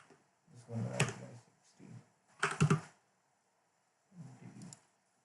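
A few short bursts of close computer-keyboard key presses as numbers are typed in, separated by silent pauses.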